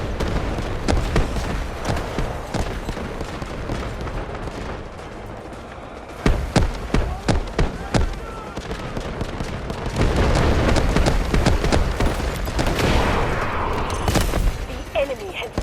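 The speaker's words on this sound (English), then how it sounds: "Artillery barrage incoming." Artillery barrage in the 24-versus-24 video game Delta Force Warfare, with rapid gunfire and booming explosions in bursts, loud and dense, and voices speaking over the shelling.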